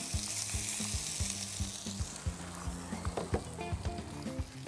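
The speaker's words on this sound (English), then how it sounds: "And it's nice and hot. You can hear it sizzling." Pork sausage sizzling in a hot Dutch oven, a loud crackling fry with rhythmic scraping and stirring knocks close by and no talk.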